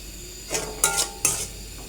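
Leftover fried bottle gourd curry is reheated in a pan: a few close spoon scrapes and metallic clinks against the pan rise over a faint, steady sizzle.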